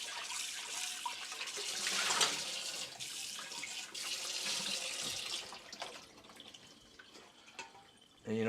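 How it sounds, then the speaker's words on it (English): Water from a running tap splashes into a container as it is rinsed out, a fairly soft continuous gush with small shifts in splash and drip, and a louder burst right at the end. "We're just gonna rinse this out."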